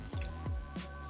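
A knife spreading mayonnaise across toasted bread, heard as a few close, soft, wet squelches and smears spaced apart.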